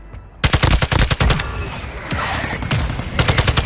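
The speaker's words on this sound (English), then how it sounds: "Mortar strike on the way." Rapid bursts of gunfire and heavy explosions from a mortar strike in the Warzone video game, loud and close, with clustered sharp cracks at the start and end and a rumbling blast between.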